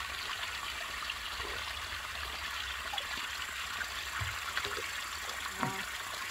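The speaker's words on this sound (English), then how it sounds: "Finally water." A mountain stream flows beside a steep hiking trail with a constant broad rushing and trickling wash, with faint handling noises over the water.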